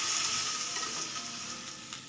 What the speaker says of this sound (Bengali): সুন্দরভাবে এই বাটা মশলাগুলোকে মিক্স করে নেড়ে মিশিয়ে নিতে হবে।